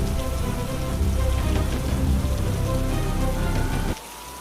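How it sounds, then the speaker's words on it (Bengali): Heavy rain lashes down during a violent village storm in a Bengali cartoon, a dense, loud, steady roar that stops abruptly near the end, leaving a quieter low rumble. "ঝড়ের মধ্যেও গঙ্গা আর তার বাবা বৃষ্টিতে ভিজে গিয়ে প্রতিবেশীদের ঘরে ঢুকল।"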